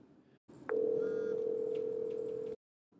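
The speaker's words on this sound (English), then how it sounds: "Jabber also makes it very easy to make phone calls by dialing the phone number" Steady telephone dial tone during a Cisco Jabber softphone call, starting after a brief click and holding for about two seconds at moderate loudness before cutting off abruptly, alone without speech.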